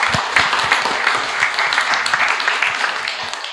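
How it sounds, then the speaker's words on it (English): Audience applause after a talk on art and anthropology, a steady dense wash of many hands clapping for several seconds, loud and continuous before tapering slightly at the end. "round of applause"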